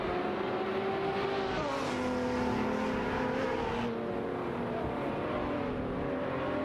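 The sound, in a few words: racing cars, Koenigsegg and Lamborghini Aventador SVJ, in video game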